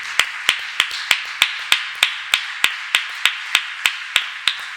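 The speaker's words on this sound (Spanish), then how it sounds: "Dale un aplauso a Jesús." A church congregation claps in unison during a Sunday morning service, with sharp, evenly spaced claps beating a steady rhythm of about three per second, close and prominent with no talk over them.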